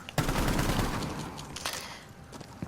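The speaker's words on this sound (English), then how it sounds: "that's where you want to shoot to try to get that bullet penetration kill" Rapid automatic gunfire in the tactical shooter Rainbow Six Siege, a dense burst of loud close shots that thins into scattered cracks and a few sharper single reports.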